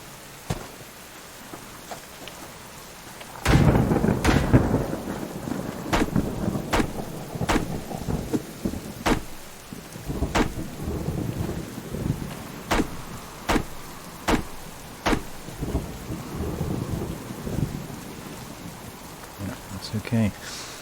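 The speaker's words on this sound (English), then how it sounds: "And here comes the rain." A steady rain shower falls with thunder rumbling through it and a series of sharp, repeated cracks at intervals, all loud and close outdoors; a voice may be faintly present.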